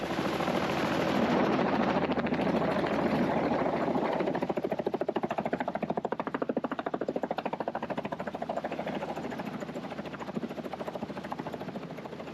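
A helicopter's rotor thumps in a rapid, steady chop with a droning engine whine over the Okavango, loud at first and easing slightly as it moves off after dropping a fuel pump near a boat.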